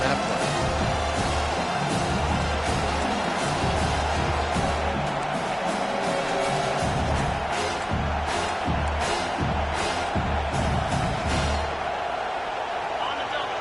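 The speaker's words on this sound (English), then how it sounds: "Decibels rising as the crowd gets behind this defense on 3rd down" Stadium crowd in a football video game, a steady loud roar of cheering that swells on third down, continuous throughout, with a commentator talking over it.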